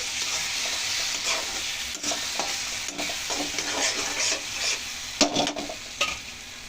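Ginger garlic paste stirred and fried in a pan for a drumstick egg curry: a close, steady sizzle broken by repeated scraping stirs of the spoon, with a few sharper bursts near the end.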